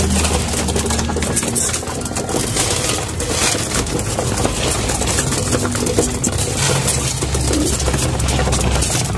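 Pigeons being hand-fed, with soft cooing from the birds set against a loud, steady broadband wash of noise and a low engine-like hum running throughout.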